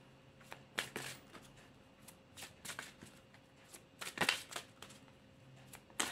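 Tarot cards shuffled by hand for a card reading, a close, quiet run of crisp riffling bursts and soft slides with brief pauses between, no voices.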